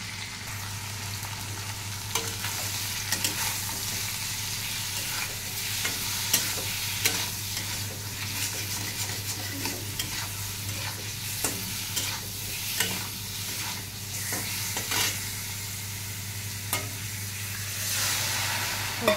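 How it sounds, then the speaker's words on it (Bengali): Cumin and fish frying in a pan while being stirred, with steady oily sizzling under frequent scraping and clinking strokes of a spoon against the pan, close and continuous. "জিরা দিয়ে দিচ্ছি একটু নেড়ে চেড়ে করে, তারপরে ওই মাছটা ঢেলে দেব।"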